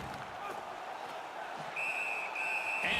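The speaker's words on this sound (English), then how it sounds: "And the referee's whistle has stopped play." A referee's whistle stops play in a Seattle Whales vs Tampa Bay Lightning hockey game, a sharp shrill blast held for about a second over arena crowd noise, with a commentator talking.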